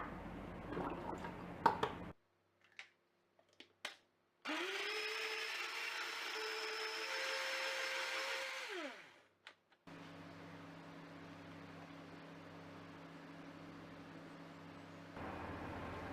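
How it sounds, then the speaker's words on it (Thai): A blender whirs steadily for several seconds, blending tomatoes, its pitch sliding down as it stops, followed by a lower mechanical hum; faint clicks and handling noises around it. "นำมะเขือเทศที่เราเตรียมไว้มาปั่นให้ละเอียดค่ะ"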